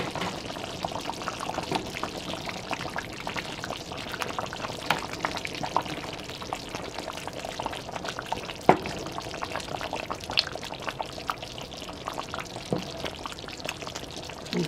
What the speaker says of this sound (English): here's my bubbling pot of hamburger soup